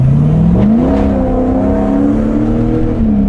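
A Corvette C6 Grand Sport's V8 of about 435 horsepower revs loud and close, its exhaust rumble climbing in pitch, holding a steady drone, then easing slightly.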